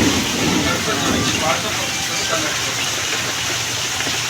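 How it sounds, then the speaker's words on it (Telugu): Heavy rain in Bengaluru pours down as a steady, even hiss that fills the scene, with a voice talking over it. "ఎండాకాలంలో ఎంత తొందరగా వాన వచ్చింది,"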